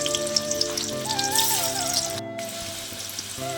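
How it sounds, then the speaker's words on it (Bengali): Potatoes frying in hot oil in a kadai, a steady dense sizzle and crackle with scattered pops throughout, close and fairly loud, with faint background tones and no talk. "এবার আমি আলুটাকে প্রথমে ভেজে তুলে রাখবো।"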